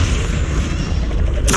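A Confringo spell blast in the Hogwarts Legacy video game, a loud dense booming burst that fills the short moment, with a sharp crack at the very end.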